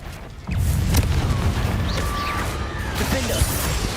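A Confringo blasting spell from the Hogwarts Legacy game goes off as a low, rumbling boom and a sustained roar of debris and crackle, with faint magical whooshes layered over the rumble.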